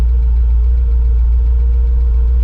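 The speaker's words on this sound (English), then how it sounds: "I hear that lifter, Mike Reed." A 702-cubic-inch car engine idling steadily up close, with a faint rapid ticking of a valve lifter tapping beneath the low rumble.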